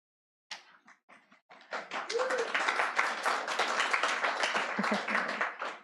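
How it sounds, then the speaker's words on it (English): An audience at a poetry reading claps, starting with a few scattered claps and swelling into sustained applause, fairly faint and heard from within the room. "Thank you for the applause."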